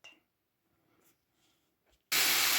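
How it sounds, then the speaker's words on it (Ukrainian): A sudden loud sizzle bursts in after near silence, steady hissing of chicken breast frying in a hot pan. "Сковорідку поставила на вогонь і вже у мене піджарюється грудка."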